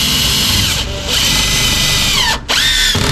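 Power drill driving screws on a homestead build, loud close whirring bursts that briefly stop and restart twice, with the motor pitch dropping as the screw seats.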